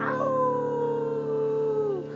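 A person imitates a dog's howl in a single long, steady, wavering wail that slides slowly downward and then fades, heard up close with no other voices.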